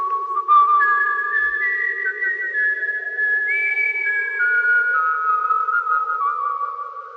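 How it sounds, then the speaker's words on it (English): A person whistles a wavering, melodic tune alone, the notes gliding up and down over several seconds. "he whistled"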